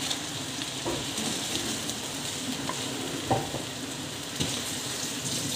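Lemon rice, with juice of two lemons just added, is stirred in a hot pan, producing a soft, steady sizzle and a few light scrapes of the spoon, close by and without speech.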